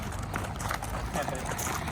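Horse hooves clip-clop steadily on a road, a continuous rhythmic clatter mixed with background voices and outdoor noise.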